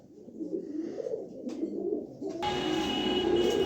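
A pair of Pakistani Lotan pigeons coo nearby, a low soft rolling call that is soon overlaid by a steady broadband hiss with a faint hum.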